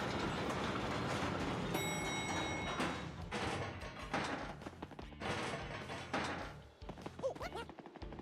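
A train rumbles steadily along its track in the video game Paper Mario: The Thousand-Year Door, with clattering wheels. A high tonal whine comes in briefly and the noise gradually shifts and fades toward the end.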